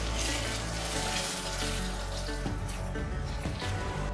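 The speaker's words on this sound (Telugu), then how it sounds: "సోయా సాస్ యాడ్ చేస్తున్నానండి" Soy sauce hits a pan of pasta, bringing a loud, close, continuous sizzle and bubbling hiss that holds steady throughout without speech.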